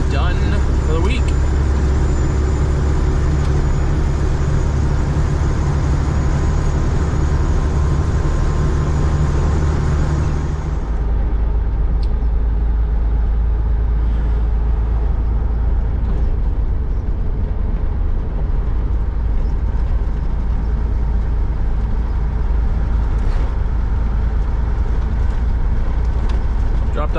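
Cab interior of an owner-operator semi truck driving on the road, a steady loud low engine drone and road rumble throughout, the tone dropping and easing partway through as the truck shifts or slows.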